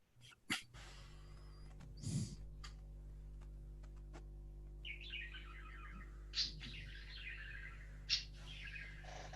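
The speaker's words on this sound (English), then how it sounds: "What is the bird?" A small bird chirps in short, bright bursts midway through a quiet lecture room with a steady electrical hum, with a few soft knocks and rustles, and no one speaking.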